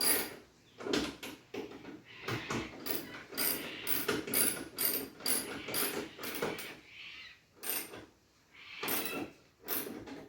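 A ratchet or wrench clicks and ratchets in quick repeated bursts with short pauses as a bolt for the bonnet strut is snugged up on a Nissan NP300 in a garage.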